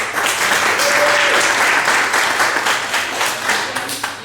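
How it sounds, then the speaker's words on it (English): A live comedy show audience claps in a dense, steady round of applause, loud and close throughout, with individual hand claps standing out and a brief voice faintly audible early on. "Round of applause"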